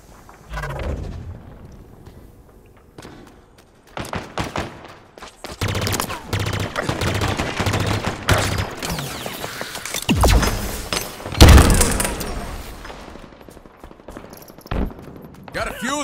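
Halo Infinite gunfire crackles in loud, dense bursts of shots with heavy impacts and explosions, mixed with game effects and occasional voices.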